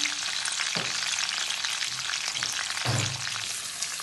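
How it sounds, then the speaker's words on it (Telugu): Green chillies, curry leaves, cinnamon and cloves fry in oil in a pan with a steady, close sizzle throughout, broken by a couple of brief stirring scrapes. "ఇప్పుడు వీటిని బాగా ఫ్రై చేసుకుందాం."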